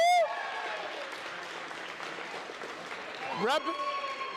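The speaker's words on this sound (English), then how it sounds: "they making some noise in the crowd out there" Spectators at a youth 13U division qualifier event applaud and cheer steadily from a distance, a continuous wash of clapping with an announcer's voice rising briefly over it.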